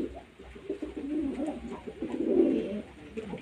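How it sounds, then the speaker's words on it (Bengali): Fulsira pigeons, old birds kept at home beside nests with eggs and black chicks, coo in a steady, close run of low throaty rolls throughout, loudest near the end. "এগুলো আমার অনেক পুরনো পায়রা"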